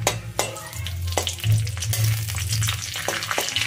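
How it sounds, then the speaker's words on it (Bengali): Cumin seeds and dried red chillies sizzle and spit in hot mustard oil in a kadai, a close bubbling hiss broken by sharp pops and crackles. "এদিকে অন্য একটা কড়াইতে নিয়ে নিচ্ছি সরষের তেল। এবার ফোড়নে দিয়ে দেব জিরে, শুকনো লঙ্কা আর কাঁচা লঙ্কা।"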